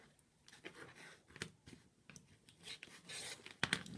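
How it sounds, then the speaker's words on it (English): Rotary cutter slicing fabric along a ruler while trimming cord for a chain pillow, heard as a faint, close, rasping scrape in short uneven strokes. "when I put my ruler on there, it holds my cord right in place, and I can use my rotary cutter"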